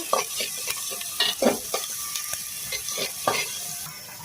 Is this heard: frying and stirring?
yes